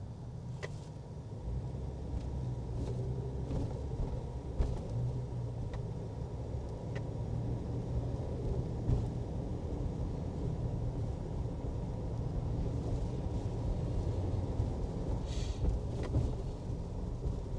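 A 2003 Jeep Wrangler cruising along: a steady, droning engine and road rumble from inside the cab, even and continuous throughout with a few faint clicks, and no talking.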